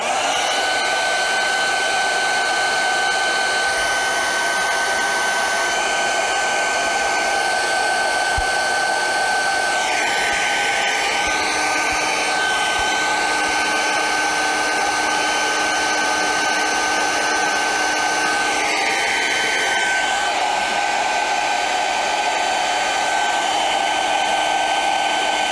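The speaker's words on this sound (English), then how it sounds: "So, all right, hair dryer. I'm going to accelerate the drying process" A hair dryer blows continuously at high speed, a loud steady whirring hiss with slight shifts in pitch as it moves.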